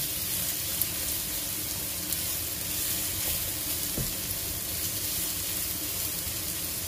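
Onions sauté in a pan for Italian beef balls, giving a steady close sizzle and frying hiss with a faint stir or two and no talking.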